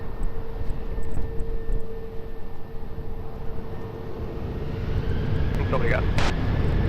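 A jet airliner powers up for takeoff on runway 20 at Lisbon Airport, a steady broadband engine roar that builds toward the end, heard at a distance while an air traffic controller speaks over radio.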